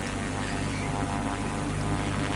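An airplane engine gives a loud, steady, unbroken roar with a rough, droning texture throughout, close and constant with no pauses and no voices.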